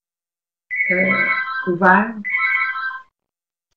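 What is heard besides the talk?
telephone ringing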